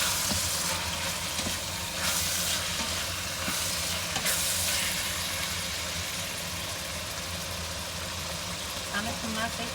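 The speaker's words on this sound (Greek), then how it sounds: "Αυτό λέω εγώ, πιπιρίζει." Minced meat sizzling as it fries in a pot used like a frying pan, a steady broadband hiss with faint crackles running throughout under a low background hum.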